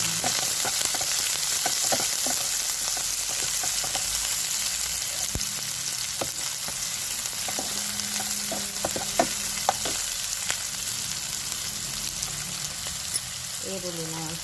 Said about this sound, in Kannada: ಈರುಳ್ಳಿ ಮತ್ತು ಹಸಿಮೆಣಸಿನಕಾಯಿ ಹಾಕ್ತೀನಿ.